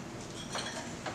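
Baking mixture being stirred in a bowl, a quiet scraping and clinking of utensil against the bowl with two brief louder strokes.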